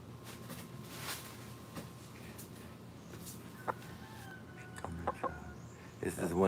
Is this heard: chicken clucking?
yes